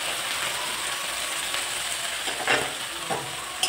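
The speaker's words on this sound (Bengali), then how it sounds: "আদা রসুন বাটা একটু ভাজা হয়ে গেলে পেঁয়াজ দিয়ে দিচ্ছি" Onion going into a pan with ginger and garlic paste, giving a steady close sizzle and crackle with a few scraping stirs and clinks, and no voices.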